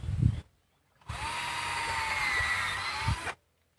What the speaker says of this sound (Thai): อันนี้ไม่ใช่สว่านไฟฟ้านะครับนี่อยู่ทุ่งนาเป็นสว่านแบตเตอรี่